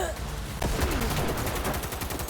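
Rapid gunfire in the video game Cyberpunk 2077, with dense automatic bursts over a loud, busy game soundtrack.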